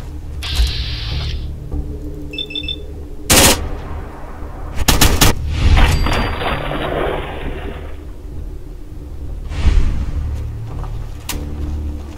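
Gunfire from a Super Mutant boss's high-caliber weapon in Fallout 4, with several loud broadband bursts and cracks standing out over a steady game-ambience rumble, plus brief mechanical clicks.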